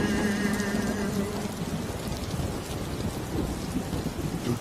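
Heavy rainstorm with thunder, a dense, constant roar of rain on surfaces under a deep low rumble, with a faint tonal hum fading early on.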